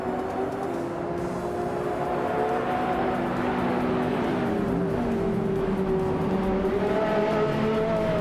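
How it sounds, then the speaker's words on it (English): Race cars, including a 2011 Lexus LFA, accelerate at Blackwood GP in a racing video game; several engines whine at overlapping, shifting pitches in a continuous loud roar with faint tire squeal. "the race is underway at Blackwood GP"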